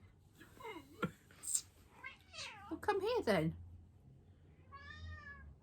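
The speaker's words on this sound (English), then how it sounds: "He's just a cat that likes to shout at people." A house cat meows loudly several times, a drawn-out shouting call near the start and a higher, harmonic meow toward the end, close to the microphone, with a person speaking briefly in between.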